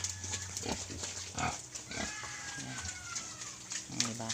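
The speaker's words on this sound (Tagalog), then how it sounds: "Pwede natin ipakain sa ating mga alagang native pigs, ayan." Native pigs on a farm grunt and oink repeatedly while being fed, with close, irregular snorts and squeals, and a person talks intermittently over them.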